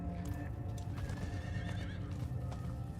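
Horse hooves clip-clopping at a gallop in the Diablo 4 video game, a steady rapid rhythm close up with occasional whinnies over a dense game soundscape, no talking.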